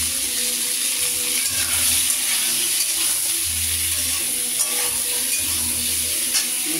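Steady sizzling and frying in a pan as potato, stems, salt and turmeric cook, with intermittent stirring scrapes over a constant hiss and no talking.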